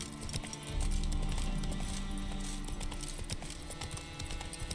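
Horse hooves clip-clop in steady rhythm on a path in the video game The Witcher 3, close and continuous over game ambience.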